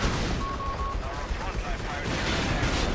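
Machine gun fire in Company of Heroes 3, the wartime strategy game, rattles as a dense, loud, continuous fusillade with a voice speaking over the top.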